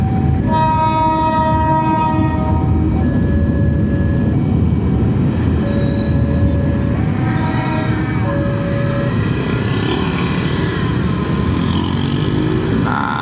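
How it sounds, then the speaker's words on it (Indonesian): A loud morning train rumbles past close by, its horn sounding in sustained tones over the steady roar of wheels on the rails. "Wah, kereta pagi nih."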